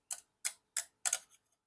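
Hard epoxy-coated, work-hardened copper metal detector coil wire tapped four times, each a sharp, close, bright click at an even pace, the last a quick double tap, otherwise silent.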